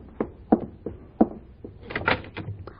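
A front door is answered and opened, giving a series of close, sharp thuds and knocks from handling and footsteps, then a rattling burst as the door swings open.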